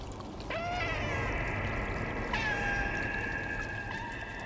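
A cat in the Stray video game gives two drawn-out, wailing meows in quick succession, clear and fairly close over a low steady ambient hum, with no talking.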